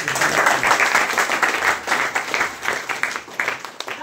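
Loud audience applause fills a hall at a wellness business talk, dense steady clapping that stays strong for several seconds before easing slightly toward the end.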